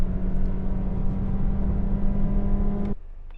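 A car engine droning steadily under acceleration, with a loud, low hum and a clear tonal whine that cuts off abruptly near the end, leaving quieter background noise.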